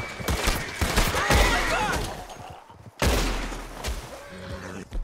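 Gunfire in the Red Dead Redemption 2 video game: a rapid volley of loud shots crackles for a couple of seconds, then a second burst follows after a brief lull, with a horse whinnying faintly amid the shooting.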